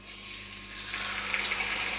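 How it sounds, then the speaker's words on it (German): Flour-dusted plaice fillets fry one at a time in a pan, giving a steady, close sizzle that swells slightly, with no talking over it. "Und dann wird jede Scholle einzeln angebraten."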